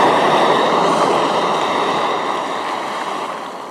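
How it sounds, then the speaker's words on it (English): Water at a rolling boil in a pot on a canister stove, a loud, dense, close roar of bubbling and hissing that holds steady, then eases off slightly toward the end, with no voices. "now we've got the rolling boil"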